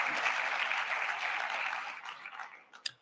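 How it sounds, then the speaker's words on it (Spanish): An audience at a microbiome conference applauds steadily for about three seconds. The clapping is dense and fairly close, then thins out and fades at the end with a few last scattered claps. "para entrar en materia este aplauso del público"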